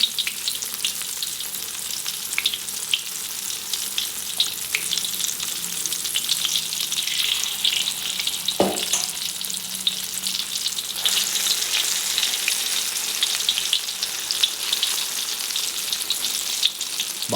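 Eggplant omelette (tortang talong) fries in oil, a loud continuous close sizzle with a brief clatter midway and no voices.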